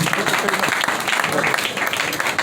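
Audience applause in a hall during a career tribute event for a music legend, a dense steady wash of clapping with murmuring voices mixed in throughout.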